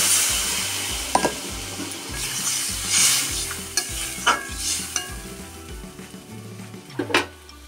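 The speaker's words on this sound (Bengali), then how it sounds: "কষানো হয়ে গেছে, এবার আমি পরিমাণ মতো জল দিয়ে দেবো।" Spiced masala frying and sizzling in a pan as water is poured in, with repeated rhythmic stirring scrapes and a few sharp spatters, loud and close with no talk.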